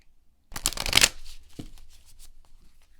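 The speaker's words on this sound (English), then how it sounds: "So let's actually just do a couple shuffles and then pull a card" A deck of oracle cards is shuffled once in a quick riffling burst at close range, followed by softer sliding and tapping of the cards.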